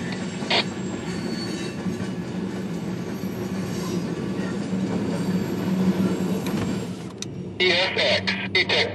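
A CSX Q415 eastbound freight train led by an SD40-2 locomotive rolls past close by, a loud steady rumble of wheels and cars with bursts of high wheel squeal and clatter near the end; a voice speaks briefly.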